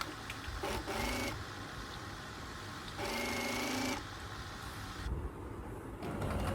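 A sewing machine stitches a double-folded hem on fabric for a flared top, running in short bursts of roughly a second each, separated by pauses, faint and with no talking.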